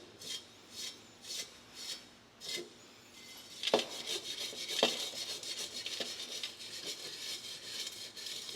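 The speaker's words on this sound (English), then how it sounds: "So you just rub that on there." Rust cleaner is rubbed by hand onto metal, giving soft rhythmic scrubbing strokes at first, then denser, scratchier rubbing with a few sharper scrapes, close and fairly quiet.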